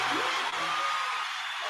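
A huge festival audience of about 50,000 people claps and cheers in a dense, continuous wash of applause, heard from a distance as a broad roar without individual claps.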